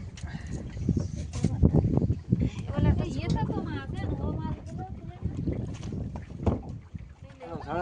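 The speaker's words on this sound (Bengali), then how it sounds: "এখন এই নদীতে বসে আছি বাবা ইঞ্জিনে স্টার্ট" A boat engine runs on a river in the Sundarbans forest. It makes a rough, uneven drone close by, with voices talking over it throughout.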